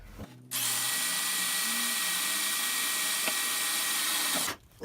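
A drill starts up and grinds steadily through a steel railroad spike at high pitch for about four seconds before stopping, close and loud.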